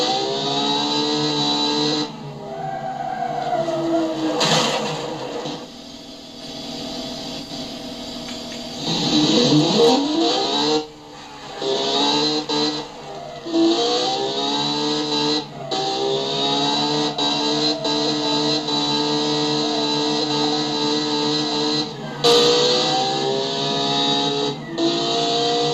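Engine of the Wall W-12 drift car in the driving game BeamNG, sustained and loud with rising and falling pitch as it revs, shifts and slides, with brief dips between pulls and no talking.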